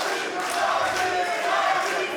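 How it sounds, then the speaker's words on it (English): A crowd at an LFL15 heavyweight title MMA fight between Kasim Aras and Moreno Kacapor roars steadily and loudly behind Aras, a dense continuous wall of voices with no clear breaks. "The crowd getting behind Kasim Aras a little here."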